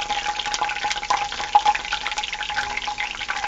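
Potatoes fry in hot oil with a steady, crackling sizzle and scattered sharp pops, close up and continuous throughout.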